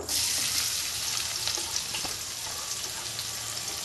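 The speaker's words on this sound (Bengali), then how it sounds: "এতে আমি এবার দেব পেঁয়াজ কুচি দেব।" Chopped onion fries in a little oil for a Bengali-style chilli chicken, a continuous close, loud sizzle with faint stirring scrapes.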